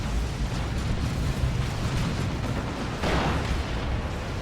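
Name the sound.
basic missile explosions in Dawn of War 2 video game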